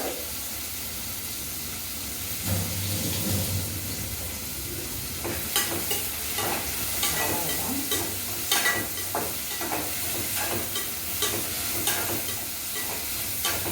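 Tomato sautéing with a little salt in a pan, a steady sizzle broken by a run of scraping stirs and sharp utensil clicks in the second half, close and moderately loud with no voices.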